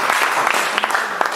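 A church congregation clapping together, a close, loud patter of many hands that holds steady throughout.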